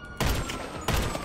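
Gunfire in GTA 5 Online, sniping and shooting: two loud, close shots about 0.7 seconds apart, each a sharp crack followed by a booming decay, over continuous game background noise.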